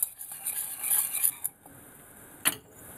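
A spoon stirs milk and sugar in a small saucepan, giving a faint, soft scraping run followed by a single light clink against the pan, with no voices present.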